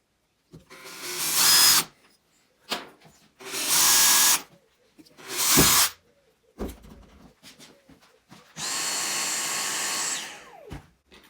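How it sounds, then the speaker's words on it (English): A power drill whines in several short bursts with a 3mm bit, separated by pauses, ending with one longer steady run, close up. "you just want a 3mm drill bit, and then you can drill your hole"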